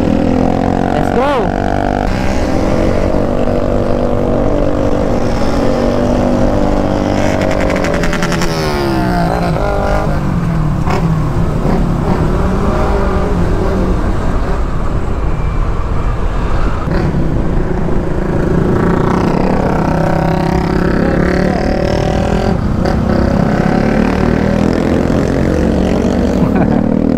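Five motorcycles, three carrying passengers, ride together on a trip to Payaran Falls in Montalban, giving a continuous, loud engine drone that rises and falls throughout, with voices heard over the riding.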